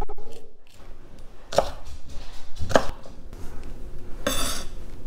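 Jalapeño being cut and seeded with a knife on a cutting board: three or four sharp, distinct chops sound close by, with softer scraping and board noise between them.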